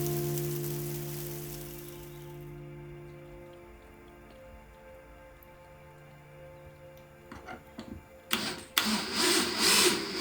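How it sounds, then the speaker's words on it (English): Hail falling during a late-spring snow and hail storm on a farm in Norway, with soft ticking over a steady low hum, then dense loud pattering bursts near the end. "hear the good weather today? Snow and hail."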